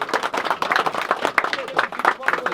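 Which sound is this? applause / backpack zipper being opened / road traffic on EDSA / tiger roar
applause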